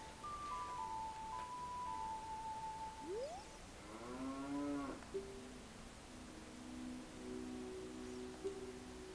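A cow moos in the video game The Legend of Zelda: Ocarina of Time, one long wavering low call in the middle, set among soft game music tones over a steady noisy background.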